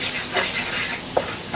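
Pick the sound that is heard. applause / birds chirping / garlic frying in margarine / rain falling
garlic frying in margarine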